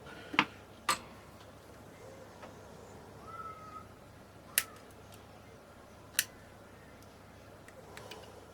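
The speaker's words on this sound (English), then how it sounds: "what I'm going to do now is cut the legs" Side cutters snip the component legs on an LED camping light: a few sharp, isolated clicks spaced several seconds apart, close and crisp against a quiet room.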